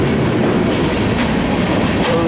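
A Norfolk Southern manifest freight train led by noisy SD70ACe and SD70ACu locomotives rumbles past close by at Mableton, a loud continuous roar of wheels and cars with faint squeals and no voices.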